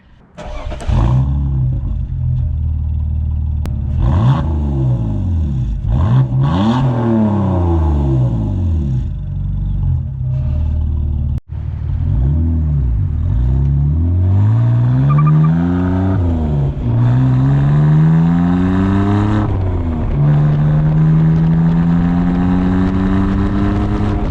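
A loud muffler-deleted BMW E46 exhaust drones and rumbles in fourth gear around 2,000 RPM, rising in pitch as the engine pulls, with a deep resonant hum filling the cabin.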